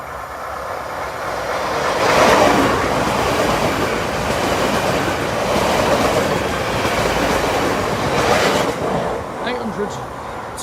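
Train 1B85 from Lincoln Central to London King's Cross rumbles past a level crossing, a steady loud roar of wheels and wagons sustained throughout with rhythmic clatter, swelling slightly toward the end.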